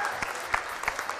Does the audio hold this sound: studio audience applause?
yes